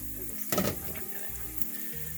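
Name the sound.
oil sizzling in a pot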